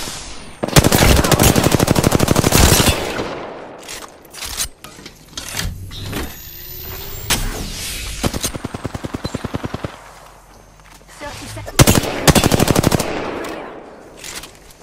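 Loud automatic weapon fire in the Void video game comes in several long rattling bursts separated by brief pauses, with mechanical clicks and whirs between volleys and no talking.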